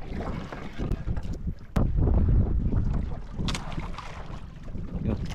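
Steady wind rushes across an open microphone outdoors during ultralight lure casting, with gusty low rumble and water lapping nearby, no voices.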